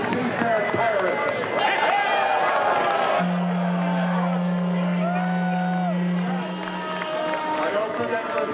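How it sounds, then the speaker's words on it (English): Crowd cheering and whooping for the Seafair Pirates at an Irish Week St. Patrick's celebration, a dense, continuous roar of many voices with whistles and shouts, plus a long sustained tone partway through. "Let's have one last cheer for the Seafair Pirates."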